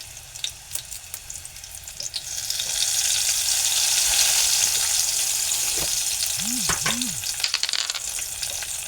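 Torn bay leaf pieces dropped into hot oil for an onion and potato curry, frying with a steady close crackle and sizzle that rises after a couple of seconds, a few short clinks of a utensil near the end.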